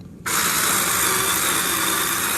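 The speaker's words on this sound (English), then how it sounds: "Put my drill on forward." Power drill driving a screw into a hinge, a steady loud whirring drone that kicks in abruptly after a short quiet start and holds to the end.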